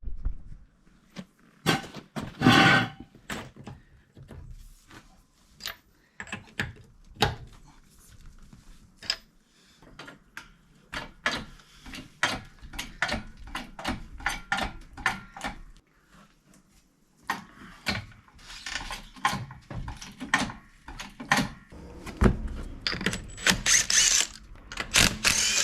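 Wheel removal on a jacked-up Mitsubishi Evo 6 that sat forgotten for about a decade: a long run of sharp metallic clicks, ratchet bursts and clunks, close and irregular, with quieter pauses and busier clattering toward the end.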